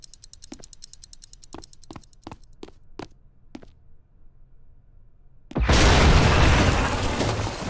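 A bomb in the XIII remake goes off after a series of sharp clicks or taps: a sudden loud, broad explosion bursts in and keeps roaring for the last couple of seconds.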